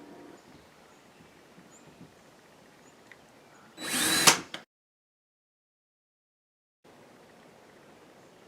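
A power drill bores into material in one short, loud burst of about a second outdoors, with quiet background before it and a stretch of silence after.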